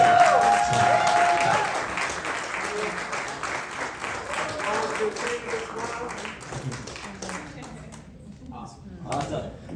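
Audience applause after a speech in Chicago, dense clapping from a crowd that starts strong and slowly thins out, with a few voices faintly mixed in underneath.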